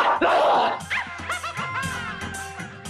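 A dog barking and yipping up close in quick bursts, mixed with whimpering, loud against a quiet indoor background.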